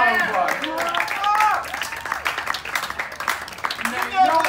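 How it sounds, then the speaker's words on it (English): Audience applause at a live concert with a crowd clapping and cheering for several seconds, while a voice talks over it and whistles rise above the noise. "Give them a round of applause."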